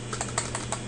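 Typing on a computer keyboard while entering code in a Jupyter notebook: about five light, quick keystrokes in an uneven rhythm over a steady faint hum, close and fairly quiet, with no voices.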